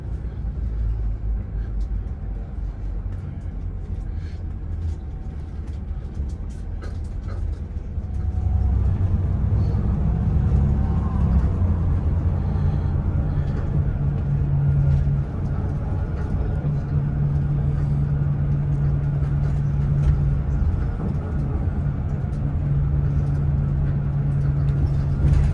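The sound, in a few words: village bus station traffic, Switzerland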